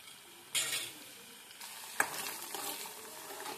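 Chicken pickle masala sizzling and frying in a pan while being stirred, with a steady hiss, scraping stir strokes, and a sharp clack near the midpoint.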